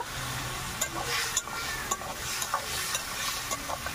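Tilapia fish curry being stirred in a pan just after water is added, a soft bubbling sizzle with irregular scraping and clinking strokes of a spoon, close and fairly quiet, no talking.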